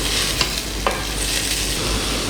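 A spoon stirs onions just starting to fry in a barely warm pot for goat curry, giving a steady close sizzling hiss with a couple of faint scrapes and no talk.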